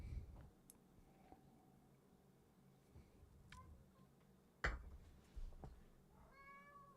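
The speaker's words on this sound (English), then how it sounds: "what are you meowing at now?" A cat meows faintly in a quiet room, giving a short rising call near the end among a few soft clicks and taps, with no talking.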